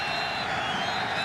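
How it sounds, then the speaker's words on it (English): A large football stadium crowd roars at a 2003 Patriots at Jets NFL game, a dense, loud and steady wash of cheering with no break. "the crowd really into it"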